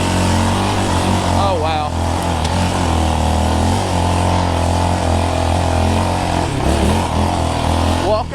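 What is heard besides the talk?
Yamaha Raptor 700R SE ATV engine riding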